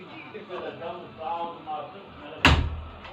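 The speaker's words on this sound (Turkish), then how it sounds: "Kapıyı kapatayım mı?" A door shuts with one sharp, close slam after several seconds of people talking indoors.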